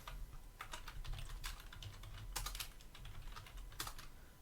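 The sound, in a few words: typing names on a computer keyboard in Linux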